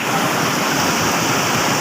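Rushing white water of a mountain stream at Doodhpathri in Kashmir fills the scene with a loud, steady, close roar of churning water and no break.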